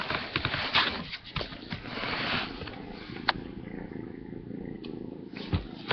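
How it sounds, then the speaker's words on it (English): A kitten purrs as it is held close to the microphone, a low continuous rumbling that stays faint and is broken by handling rustles and a few sharp bumps. "You might be able to hear her purr."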